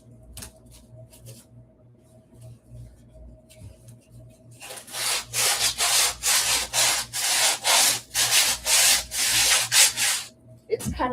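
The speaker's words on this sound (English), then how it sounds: "And then I'm just gonna start sanding it." Hand sanding of a dried modeling paste and gesso layer: after a quiet stretch with light scraping, a steady run of rhythmic rasping strokes begins, loud and close, each back-and-forth pass distinct.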